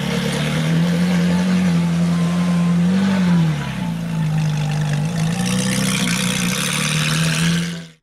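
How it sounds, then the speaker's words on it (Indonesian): A Ferrari car engine hums loudly and close, a sustained tone that rises briefly as if revving, then settles back to a steady drone before stopping abruptly. "Di sini ada mobil Ferrari."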